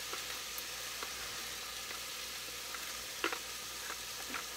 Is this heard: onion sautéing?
yes